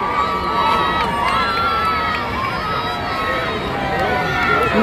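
A large, dense crowd in Kinshasa cheers and shouts continuously as Pope Francis arrives, with close, steady roaring and scattered children's cries and whistles.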